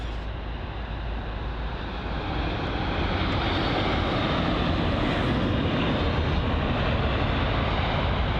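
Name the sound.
United Boeing 787-9 Dreamliner jet at Heathrow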